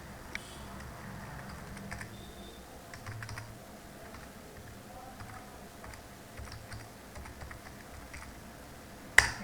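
Someone enters a company email address on a computer keyboard while setting up a new company in Tally ERP 9, with a steady, fairly quiet patter of key taps and a sharper key press near the end.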